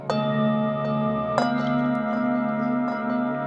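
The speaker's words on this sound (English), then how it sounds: "So we can do echo again" Singing bowls tuned to 432 Hz ring under an echo delay effect in Ableton Live, a dense sustained wash of tones with soft repeated strikes returning as echoes throughout.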